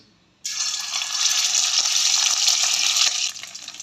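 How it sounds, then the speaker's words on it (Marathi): Ginger, garlic and coriander paste drops into hot oil in a kadai and erupts into a sudden loud hiss that holds as an even, close sizzle for about three seconds before easing off. "कढईमध्ये दोन माप तेल टाकून घ्यायचे आलं लसूण कोथिंबीरची पेस्ट टाकून घ्यायची"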